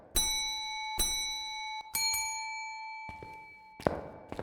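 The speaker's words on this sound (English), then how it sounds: "Ding the bell." In the video game Phasmophobia, a small bell is dinged about four times, each a bright, ringing strike that rings on briefly, followed by a couple of soft knocks and thumps.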